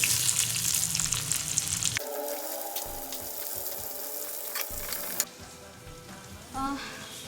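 Chopped onions hit a pan already holding cumin seeds and green chillies in a home kitchen, setting off a steady close sizzle and frying hiss with occasional clinks and stirring.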